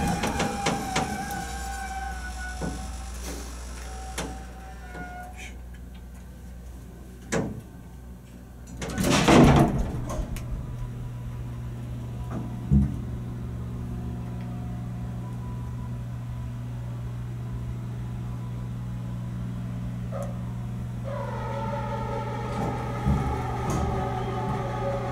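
A Downey-Goodlein traction elevator in the Mancuso Building in Batavia, NY, hums steadily while running, with a loud door clatter partway through and more mechanical clunks and tones later.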